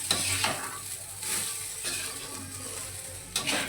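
A pan of salted food being stirred, steady frying sizzle with a few sharp scrapes of the utensil against the pan, close and alone, no voices.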